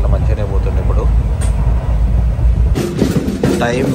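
A Karaikal–Tambaram Express train running at speed, with a steady low rumble and rattle heard from on board, and people talking throughout.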